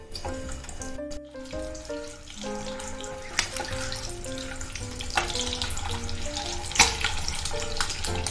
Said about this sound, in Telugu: ఆయిల్లో ఎగ్స్ వేసి ఫ్రై చేసుకోవాలి.